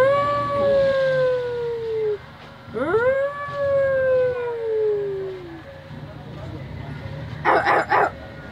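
A woman imitates a jackal's howl with two long sliding wails, one falling and one rising then trailing away, voiced loud and close. A few short sharp yelps follow near the end.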